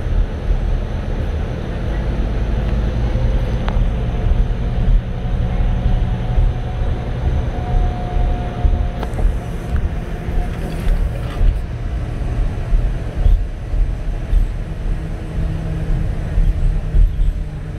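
Interior of a Scania K310IB coach with an Irizar i6 body, driving on the road: a steady low engine and road rumble fills the cabin throughout, with faint rattles and no talk.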